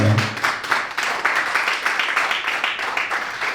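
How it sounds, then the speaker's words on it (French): A church congregation applauds after a scripture reading, a dense, steady patter of many hands clapping together that fills the whole stretch at a fairly close, even level. "Acclamons pour la parole de Dieu que nous venons de lire."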